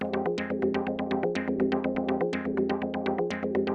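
A busy Arturia Modular V synthesizer sequence pulses with rapid plucky notes over a sustained bass tone, shifting pitch every bar in a steady, driving pattern.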